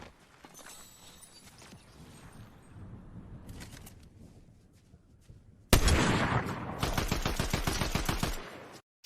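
Video game gunfire while shooting at a player in a trios endgame: scattered distant shots at first, then a loud, rapid burst of automatic fire lasting several seconds.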